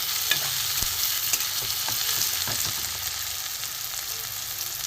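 Chopped onion, garlic, ginger, chili and tomato fry in hot oil for a dhaba-style egg tadka, with a continuous close sizzle broken by light spatula scrapes and taps.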